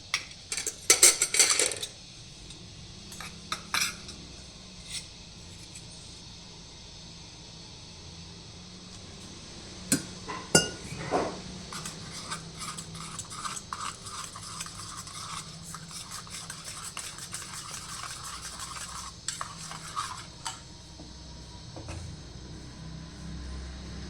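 A spoon clinks and scrapes against a bowl while two teaspoons of milk powder are stirred into a mixture for mango idli rasmalai, with scattered light taps at first and then steadier rubbing scrapes, close and quiet.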